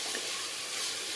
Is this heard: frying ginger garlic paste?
yes